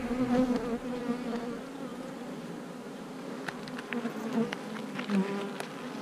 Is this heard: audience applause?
no